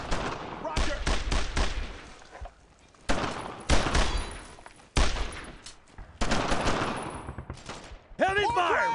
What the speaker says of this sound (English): Heavy fire! Right there!